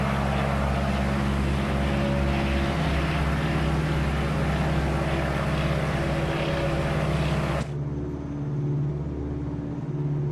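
Twin propeller engines of a Beechcraft 18 in a flight simulator game drone loud and steady, then the tone shifts abruptly near the end as the engine sound changes.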